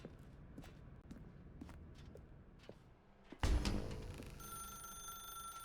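A telephone rings in The Stanley Parable video game after a run of soft footsteps, starting with a sudden loud clatter and then a steady electronic ringing tone that carries on to the end.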